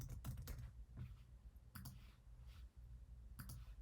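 Quiet typing on a computer keyboard, a few short bursts of close key clicks separated by brief pauses.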